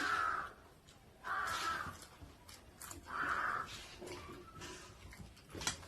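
Crows caw several times in a loose, irregular sequence, moderately distant outdoors, with brief pauses between calls over faint background noise and no speech.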